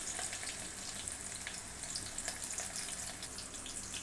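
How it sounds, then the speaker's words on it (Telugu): Green chillies and mint leaves frying in hot oil in a pan give off a steady, close crackling sizzle with soft hiss throughout, and no voices are heard. "ఆయిల్లో పచ్చిమిరపకాయలు వేస్తున్నా, కొంచెం పుదీనా కూడా వేస్తున్నా"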